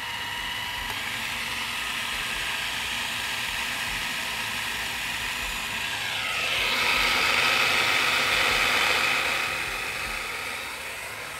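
A food processor grinds hummus with a continuous loud motor whine and rattling churn, rising in pitch and intensity partway through before settling, heard alone up close.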